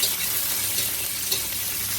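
Shrimp sizzle and fry in a hot pan, a steady crackling hiss with occasional stirring, close and continuous throughout.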